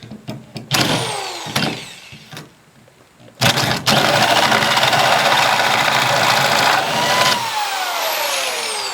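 Tenon cutter driven by a powered drill cuts into a wooden table leg held in a vise: short whirring bursts, then a sustained loud grinding spin lasting about four seconds before winding down.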